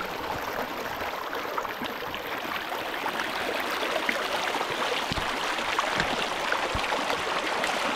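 Cool forest stream beside a hill-village trail near Mae Sariang, flowing with a continuous soft rushing and gurgle, fairly quiet and even, with no voices.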